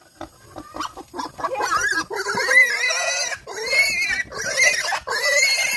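A farm pig grunts and squeals loudly up close, a string of harsh, rising squeals after a few short grunts, with no talk.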